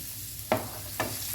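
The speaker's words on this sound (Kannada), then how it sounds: "ಬೆಳ್ಳುಳ್ಳಿದು ಹಸಿ ವಾಸನೆ ಹೋಗೋದಷ್ಟು ಫ್ರೈ ಮಾಡುವ." Finely chopped garlic, eight to ten cloves, fries in hot oil for a prawn dry starter. Three sharp sizzling bursts from stirring rise over a quiet, steady frying hiss.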